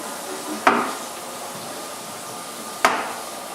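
A baby's chair gives two sharp, close knocks about two seconds apart, each fading quickly into a quiet room with no talking.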